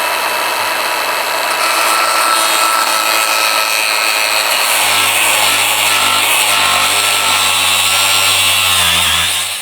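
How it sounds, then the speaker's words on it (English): Angle grinder with cutting and flap discs cutting metal during a 2.0T engine swap into a Jetta, a loud, steady high-pitched whine and grinding roar held without break for nearly ten seconds. "I went through a bunch of cutting discs, a bunch of flap discs"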